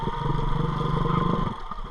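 An ATV or four-wheel-drive bike engine runs steadily while reversing in four-wheel drive, a loud close rumble with clattering, easing off near the end.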